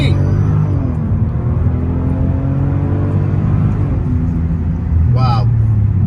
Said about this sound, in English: Wow, that twin turbo V12 packs a major punch.